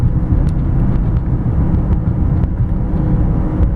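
A 2006 Subaru Forester 2.5 X Premium with a four-cylinder engine, heard from inside while driving: a steady, loud low road-and-engine rumble fills the cabin with no talking.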